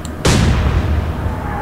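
A British warship's naval gun firing in the Atlantic Fleet video game, a single sharp loud blast that rolls into a long low rumbling decay, with no talk over it.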